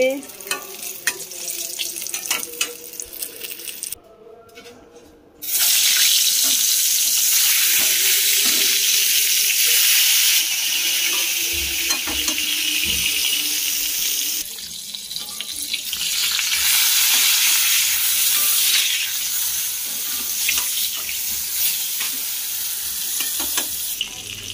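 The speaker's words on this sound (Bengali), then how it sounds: "বেগুন ভাজা হচ্ছে" Eggplant slices frying in hot oil in a pan, a steady crackling sizzle that carries loudly through most of the stretch, dipping briefly near the start and again midway.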